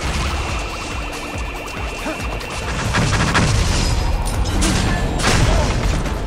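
Rockets firing in the video game No More Heroes, a dense barrage of booming launches and crashing blasts that swells louder midway, with whooshing effects layered over a busy mix.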